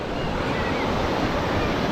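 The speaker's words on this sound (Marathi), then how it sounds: "आला पाणी माऊ, पाणी आला, पाणी आला." Sea waves wash up onto a beach at Alibag, a loud, continuous hiss of surf and foaming water filling the short moment with no pauses.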